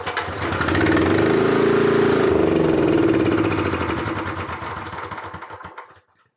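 A Honda GX240 generator engine with a carburetor fault fires up after a dose of carb cleaner and runs loud and close at a steady rough idle for several seconds before cutting out and falling silent.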